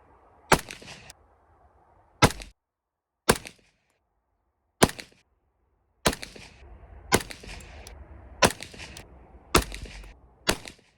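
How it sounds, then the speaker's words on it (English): Ruger LC carbine firing 230 grain round nose rounds at a target on a range, eight sharp, loud gunshots spaced about a second apart with brief echoes and quiet between shots. "I'm gonna shoot 3 shots at that middle target with those 230 grain round nose"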